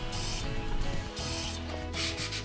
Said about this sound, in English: I recommend scuffing any areas where parts will be glued together to give some tooth